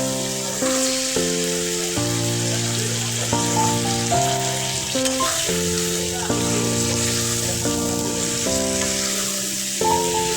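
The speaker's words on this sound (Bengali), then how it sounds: "এখন আমি ধুয়ে রাখা মাংসগুলো দিয়ে দেব।" Washed desi chicken pieces go into a pan of fried spice paste for a potato and tomato curry, giving a steady close sizzle that runs under background music.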